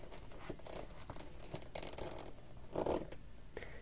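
Sheet of paper rolled tightly around a pencil while making a paper crossbow; quiet, close rustling and crinkling in short irregular bursts.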